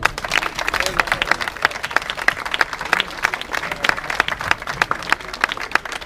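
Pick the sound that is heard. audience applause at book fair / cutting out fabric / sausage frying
audience applause at book fair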